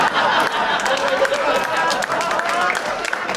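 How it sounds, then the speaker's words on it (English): Audience applause and crowd noise fill a stand-up comedy show, a steady dense wash of clapping sustained loudly throughout without pause. "Big applause break for remembering all that stuff that happened."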